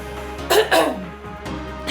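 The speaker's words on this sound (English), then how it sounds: "I just need to clear my throat" A person clears their throat twice in quick succession, close and fairly loud, with a low steady hum underneath during an indoor cycling class.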